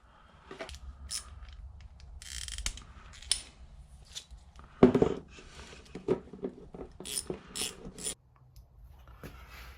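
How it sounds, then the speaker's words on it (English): A screw is driven back in while a Carrier inducer fan motor is reassembled, giving faint, scattered ratcheting clicks and metallic scrapes with short pauses between, close by and with no talking. "I'm gonna put this screw in."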